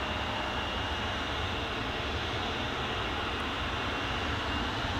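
A KLM Embraer 175 jet rolls down the runway on takeoff, a steady broadband engine roar holding loud and even throughout with no voices.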